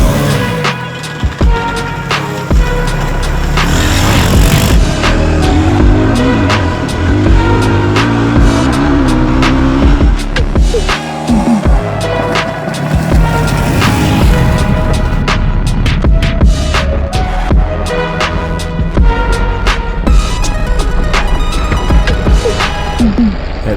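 A cheap used dirt bike bought for under a thousand dollars, ridden hard on a shakedown, its loud raspy engine revving and bouncing continuously up close with wind buffeting and rattling throughout.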